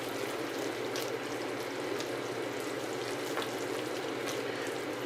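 Onions sizzle and fry steadily in a pot over medium to medium-low heat for Tuscan onion soup, a continuous close crackling hiss with fine pops and no talking.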